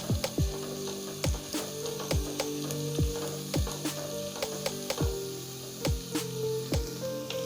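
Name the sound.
ginger garlic paste frying in karahi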